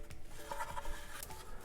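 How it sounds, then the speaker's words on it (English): Wood being sanded by hand on a vintage RC plane fuselage, a soft continuous rasping rub with short repeated strokes, close and moderately quiet with no talking. "right now I'm just going to go ahead and sand this down and get it sort of close"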